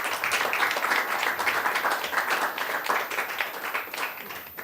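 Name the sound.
audience applause for a speaker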